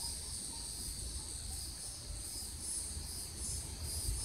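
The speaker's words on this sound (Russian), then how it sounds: "Пока слышны только цикады." A steady high-pitched drone of cicadas buzzes continuously in the distance, unbroken and even, in the wild in Central Florida.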